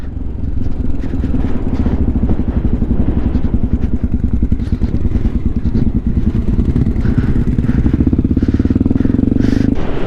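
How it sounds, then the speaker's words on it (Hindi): A motorcycle engine labours loudly and continuously as the bike struggles up a high mountain pass on the Pamir Highway between Alichur and Karakul Lake, with a rapid, throbbing pulse and faint rattling throughout. "क्या है ये बाइक इतना भी नहीं चढ़ पा रहा है।"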